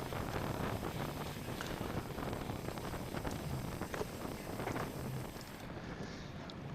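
Wind roars and buffets the microphone during a Category 4 bicycle race at Hillingdon, a constant loud rushing gust that eases slightly near the end, with no talking.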